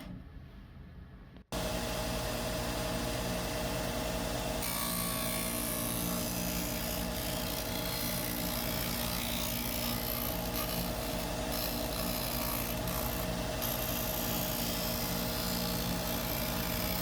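A WEN disc sander grinds into a wood piece, a loud continuous motor whine with steady abrasive rasping that starts abruptly and keeps going throughout, with no talk.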